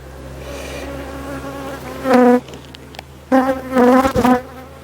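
Honeybees from an overwintering colony hum in an open hive, a constant close drone swelling into louder, higher buzzing bursts as individual bees fly near.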